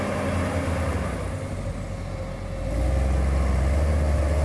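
A New Holland W190B wheel loader with an FPT Tier 3 engine of 213 horsepower runs steadily, a low continuous diesel drone close by that swells louder partway through.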